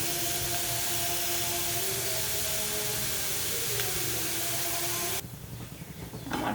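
Grated carrot for a jaggery carrot payesh fries in a pan with a steady, loud, close sizzling hiss that runs on evenly, then drops sharply quieter near the end.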